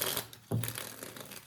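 Tarot cards being shuffled for a reading: a close, loud papery rustle and crinkle that runs throughout, with a brief dip before a stronger burst of card noise, no talking.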